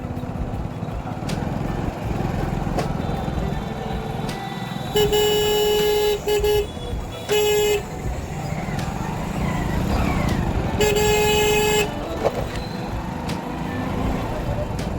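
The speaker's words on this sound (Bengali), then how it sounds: "এমনিতে তো রাস্তায় খুব বেশি ভিড়, গাড়িরও অনেক জাম আছে।" Busy, crowded road traffic in the Sonabarighat market area heard from a moving bike, a constant engine and road rumble with several sustained car horn blasts and toots cutting through, plus brief background voices.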